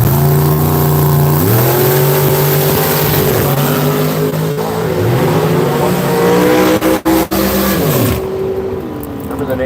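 Silver Chevy II drag race car at Seattle International Raceway accelerating hard down the track, a loud revving engine climbing through gear shifts and fading away, with an announcer talking over it.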